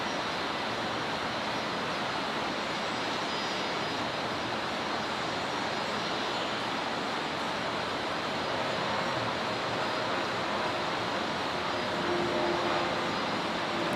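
A Virgin Australia Boeing 737-800 departs Brisbane in heavy rain at night, its engine roar blending into a steady wash of rainfall that swells slightly toward the end.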